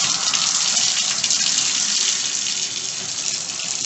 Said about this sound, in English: So I'm going to turn the water to the hot side to purge out the air if there's any.